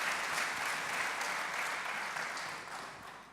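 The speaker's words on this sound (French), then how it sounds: "Je vous demande d'applaudir, s'il vous plaît." Audience applause at the close of a workshop on photovoltaic self-consumption, a dense steady wash of many hands clapping that fades slightly toward the end, with no talk over it.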